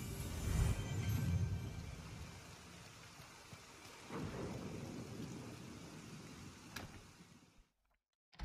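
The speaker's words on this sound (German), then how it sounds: "Jetzt ist ja Unwetter hier." Thunderstorm with steady rain in the video game Disney Dreamlight Valley: a loud rumbling thunder roll at the start, another softer rumble midway over continuous rainfall, then sudden silence near the end.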